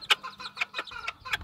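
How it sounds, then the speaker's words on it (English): A black kikiriki hen with her chicks makes soft, quick clucks and chirps, a run of short calls spaced closely over a second and a half, faint and nearby. "my black kikiriki hen with their babies"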